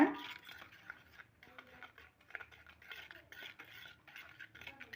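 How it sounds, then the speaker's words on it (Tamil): Eggless rava cake batter with curd being mixed in a bowl, with soft, irregular scraping and swishing strokes of a utensil that stay faint and close, without any voices. "தயிர் சேர்த்து நம்ம இந்த மாதிரி நல்லா கலந்துக்கலாம். நம்ம அவசரப்பட வேண்டாம், பொறுமையாக கலக்குங்க."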